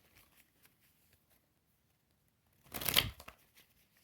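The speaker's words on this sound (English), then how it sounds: "Let's do a quick shuffle." A quick shuffle of a tarot deck gives one short, crisp riffle burst lasting about half a second in a quiet room, with faint handling noises before and after.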